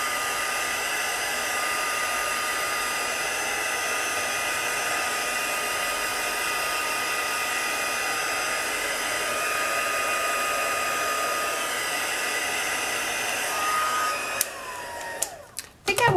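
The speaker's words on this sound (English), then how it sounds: "I think I'm going to help it along a little with my heat tool." A craft heat tool blows hot air to dry watercolor paint on a Brusho watercoloring and sparkle embossing project, a loud steady whirring hiss lasting most of the time before clicking off with a few handling knocks.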